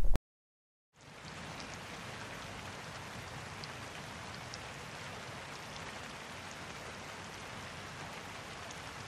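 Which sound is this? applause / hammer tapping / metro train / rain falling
rain falling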